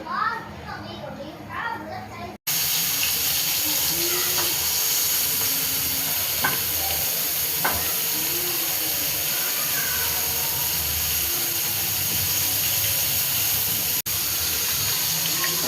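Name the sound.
semolina-coated marinated prawns frying in oil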